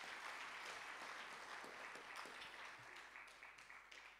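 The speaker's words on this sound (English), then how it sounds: "Can we give them a round of applause?" Lecture audience giving a warm round of applause at a university inaugural lecture, a sustained dense clapping that tapers slightly toward the end, with no speech over it.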